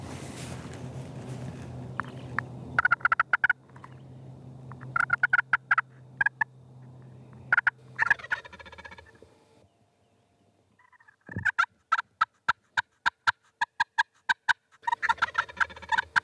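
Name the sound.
wild Osceola turkey gobbling in response to a slate call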